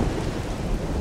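Steady, dense rain pours with a deep rumbling of thunder beneath it, a continuous stormy wash at sea on a lone ship in the video game Risen 2, with no voices.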